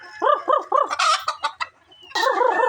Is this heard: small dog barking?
no